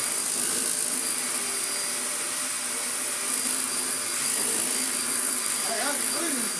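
A brand new Vacmaster Captura vacuum cleaner runs with a loud, steady motor whine and airflow roar, holding a constant level throughout, with faint pitch shifts near the end.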